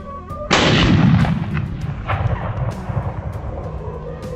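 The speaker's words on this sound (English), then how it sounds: "We opened fire, targeting them one by one. Gunshots echoed non-stop" Gunfire from a helicopter aimed at wild boar in an open field: one loud, sharp blast that rolls off into a long echoing rumble, with no voices.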